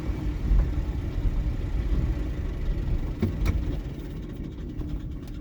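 An electric MG Midget cruising on the road in third gear: a continuous low rumble of road and drivetrain noise with a faint whir, steady and close, with a few light knocks.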